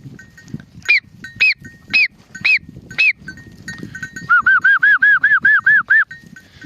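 Sheep bleating on a Turkish farm as rain approaches, first five separate loud calls spaced about half a second apart, then a rapid run of nine close bleats, over a low rustling background.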